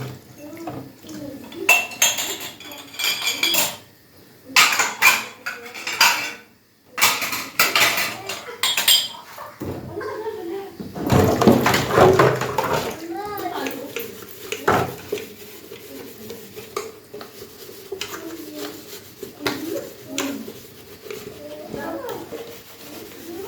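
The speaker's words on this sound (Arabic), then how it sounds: "اغسل الكوبايات واخلصها" Glass cups being washed in a kitchen sink, with clinking, knocking of dishes and bursts of running water in uneven clusters, close by, with someone talking in between.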